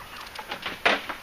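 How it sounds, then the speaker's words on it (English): Chickens clucking around a backyard coop and run, several short soft clucks with one louder burst near the end. "Chickens all over the place."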